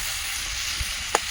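Ash gourd frying in a pan, with a steady hissing sizzle throughout, a soft low knock from stirring and one brief clink of a utensil near the end.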